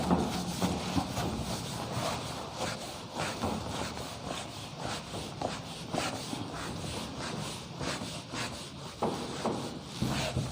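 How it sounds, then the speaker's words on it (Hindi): Rubbing to erase writing on a classroom board, a steady scratchy scrubbing texture running continuously and fairly loud with repeated strokes, heard alone without talk. "मैं इधर से रब कर देता हूँ।"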